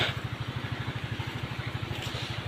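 A small motorcycle engine idles in a rural farm field, its rapid, even putter thumping steadily and fairly close, with no other sounds over it.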